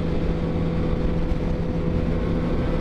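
Many motorcycles riding together in a convoy, a steady loud engine drone with low rumble, continuous and unbroken.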